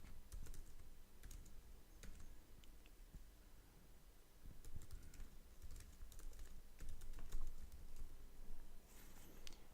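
Fingers tap steadily on a computer keyboard while entering post content in a Ruby on Rails app, a faint, close patter of clicks in uneven bursts with no voices.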